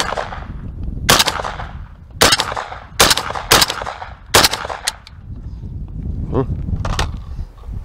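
Several sharp shots from a modified JTS MK12 rifle running a 1550 Monarch gas system on setting two, ringing out outdoors in uneven groups, with a faint voice briefly in the gaps.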